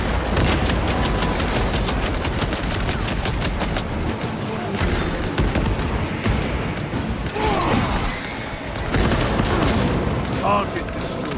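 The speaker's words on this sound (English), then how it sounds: "Deploying shock grenade!" A shock grenade goes off amid a Space Marine II firefight: repeated heavy booms and rapid gunfire bursts, loud and close throughout, with a voice calling out over the barrage.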